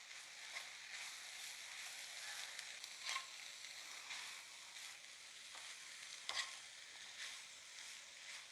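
Faint, steady sizzle of pepper and cumin powder being mixed in a frying pan before chopped noolputtu goes in, broken by a couple of brief spoon scrapes.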